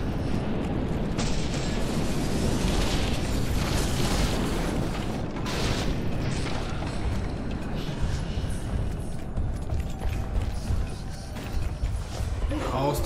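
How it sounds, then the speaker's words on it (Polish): Trebuchet bombardment and explosions during a siege battle in the video game The Witcher 2, a dense, continuous roar of booms and mechanical crashes filling the whole stretch at steady loudness. "Trebusze!"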